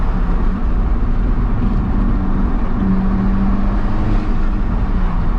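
An Alfa Romeo 4C sports car is heard from inside as a loud, continuous engine drone under acceleration, with a low rumble swelling slightly in pitch through the run.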